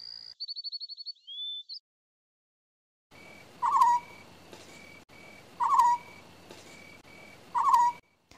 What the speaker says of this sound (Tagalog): Tama, ito ay tunog ng quago.